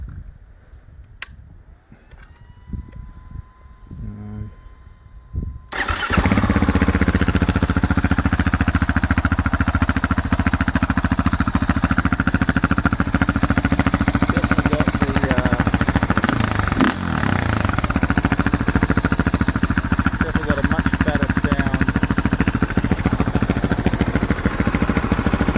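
A KTM 690 Enduro R single-cylinder motorcycle fitted with a Dominator R exhaust starts with quiet clicks and fiddling, then fires up after about six seconds into a loud, steady, deep idle with blips of revving, close by.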